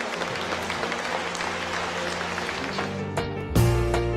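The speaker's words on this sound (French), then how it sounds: "un bel applaudissement." A church congregation applauds after a testimony, a moderate, even round of clapping that fades out near the end before a louder burst of other sound cuts in.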